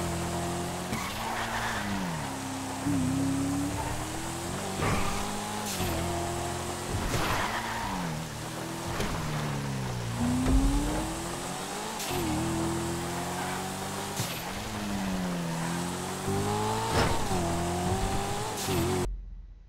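A Dinka Jester sports car in GTA V floored at full throttle on a rally off-road course, engine wailing and repeatedly rising in pitch through gear changes while tires squeal and skid continuously, loud and close.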